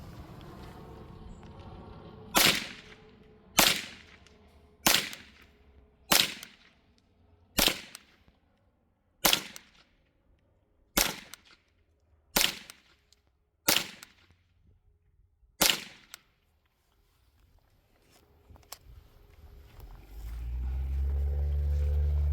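Derya TM22 semi-automatic 22 rifle, brand new out of the box, fires a string of roughly ten loud, sharp shots at an uneven rhythm over about fourteen seconds. Each crack stands alone and echoes briefly, then low rumbling noise follows.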